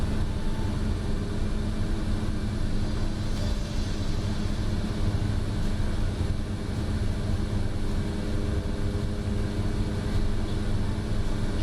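A simulated Pilatus PC-12 turboprop engine at flight idle drones on in a steady, dense roar with a low rumble. It stays loud and unchanging throughout, with no speech over it.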